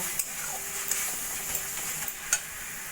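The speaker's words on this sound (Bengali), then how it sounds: "দিয়ে দেবো অল্প করে কাশ্মীরি লঙ্কার গুঁড়ো আর দিয়ে দেবো মিট মশলা ভালো করে মশলার সঙ্গে মিশিয়ে নেব" Kashmiri chili powder and meat masala being stirred into spices frying in a pan, with a steady sizzle broken by several light scrapes of a spatula.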